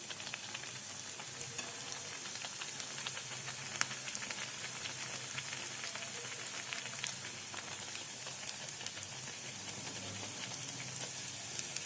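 Sabudana vada deep-frying in hot oil, a steady, continuous bright sizzle and hiss with small crackling pops throughout, close and even, with no talking.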